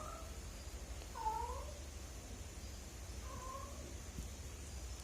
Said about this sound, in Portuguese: Meu gato.